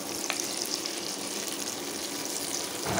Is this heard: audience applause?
no